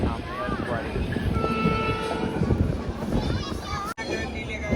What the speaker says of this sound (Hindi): ये सामने कोई सी ट्रेन है, उत्तर संपर्क क्रांति, ये थी वे उत्तर संपर्क क्रांति।